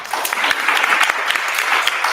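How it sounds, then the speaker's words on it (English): Conference audience clapping together after a show-of-hands prompt about gated communities, a dense steady burst of applause filling the room with no voices on top. "Round of applause if you've never lived in a gated community."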